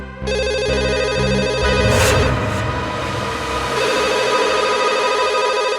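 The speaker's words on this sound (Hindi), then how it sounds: "इतनी रात को कौन फोन कर रहा है?" A telephone rings steadily with a bright, repeating electronic tone, loud and close, running for several seconds without any talking.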